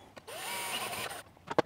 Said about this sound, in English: time to drill a hole